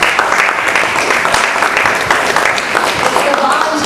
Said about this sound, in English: A round of applause to thank everybody.